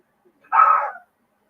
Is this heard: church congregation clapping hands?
no